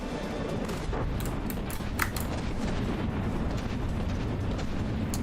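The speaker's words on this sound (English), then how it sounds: "Mortars are coming down too." Mortar fire in the naval combat game From the Depths, a dense, steady rumble of distant blasts with a few sharper bursts cutting through.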